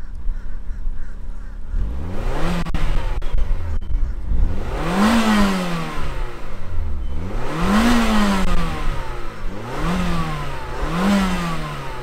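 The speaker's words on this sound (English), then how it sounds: "let's fire up this inline four turbocharged engine and hear what it sounds like" A 1994 Toyota Celica GT-Four's turbocharged inline-four cranks and fires up, then revs loudly and repeatedly in four rising and falling sweeps, close by with no talk.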